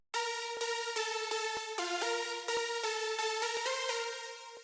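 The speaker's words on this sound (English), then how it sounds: "And then I added the delay to make the lead a little bit more wide" Bright progressive house synth lead with light delay, sustained sawtooth-like notes changing pitch in a steady rhythm, echoes smearing each note into the next, alone and clear.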